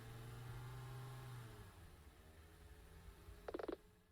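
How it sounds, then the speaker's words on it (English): A limo's engine approaching in the game Nina Aquila: Legal Eagle III, a faint, low hum under a steady drone with a brief creaking clatter near the end. "Sounds like a car."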